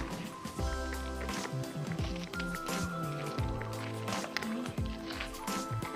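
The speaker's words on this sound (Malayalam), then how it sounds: "ഇനി നമുക്കിതിലേക്ക് കുറച്ച് വെള്ളം ഒഴിച്ചു കൊടുക്കാം" Water is poured into a container of homemade organic fertilizer made with leaves, giving a close, bubbling gurgle whose pitch shifts as it fills, with splashy pulses throughout.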